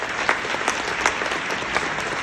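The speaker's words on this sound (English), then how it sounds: "let's clap for that." Listeners at a plenary talk clap together, a moderate spread of applause with a few sharper individual claps standing out, heard fairly close and without talk.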